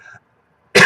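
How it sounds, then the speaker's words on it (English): A single sharp cough bursts out close by at the end, after a brief murmur and a moment of silence. "I don't know why I keep coughing."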